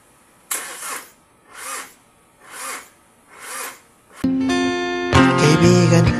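A car engine cranking without catching, four slow whirring starter bursts with gaps between them, then a steady loud running noise that rises again at the end.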